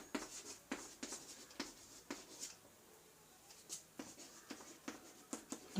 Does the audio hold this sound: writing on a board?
yes